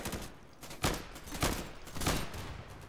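Several bursts of rifle gunfire in the tactical shooter Insurgency, played on Linux in a town map, ring out in quick succession with loud, sharp reports echoing between them.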